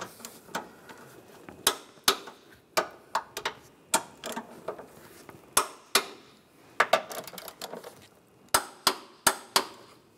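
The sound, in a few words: torquing car engine bolts with a wrench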